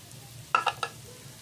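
Garlic toasting in a pan as it is stirred, with three quick sharp scraping clicks over a faint sizzle, close and alone.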